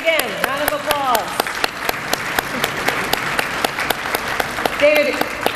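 Audience applause at an Arc of Northern Virginia awards dinner welcoming a speaker, steady clapping with distinct sharp claps, while voices talk over it near the start and end.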